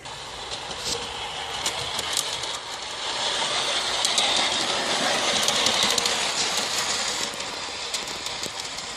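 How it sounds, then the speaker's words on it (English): Steady rumbling rolling noise with faint repeated clicks and ticks of G scale model train wheels running over rail joints, continuous and moderately loud with no talking. "you hear the clatter of the wheels over the rail joints"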